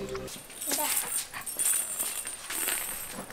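A stray dog whimpers in thin, high whines that come and go beneath louder voices and background noise in a Telugu short-film setting.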